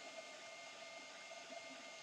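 A Tronxy X1 3D printer runs with a steady, faint mechanical hum and whir, alone with no talking, ending in a brief louder bump.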